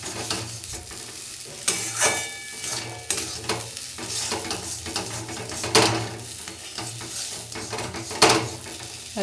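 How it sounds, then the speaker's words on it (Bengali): Semolina being stirred in a pan until dry and crumbly, a spoon scraping and clinking against the pan in irregular strokes over a soft background sizzle, close and fairly quiet. "এবার সুজিটাকে আমি ঝুরঝুরে করে নেব"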